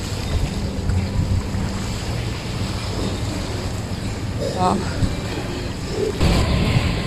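Sea water washing along the Sandakan harbour front in Sabah, a constant rushing wash blended with gusty wind noise, with a brief murmur of a voice and a few faint background sounds partway through.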